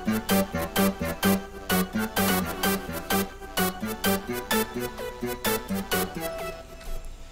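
A bright, thick three-layer synth lead on an EVS plays a quick rhythmic pattern of short pulsing notes over a beat, steady and upfront throughout.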